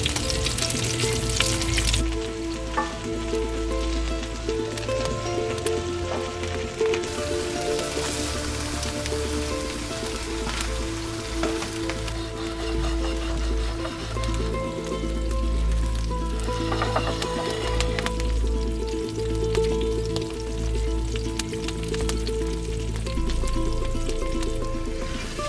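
Rack of lamb searing beside the open fire of a wood-fired oven, giving a steady, continuous sizzle and crackle that holds close and even throughout, with no talking.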